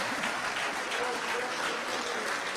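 A conference audience gives steady, dense applause for a speaker after a talk on synthetic biology, sustained throughout with a voice faintly present.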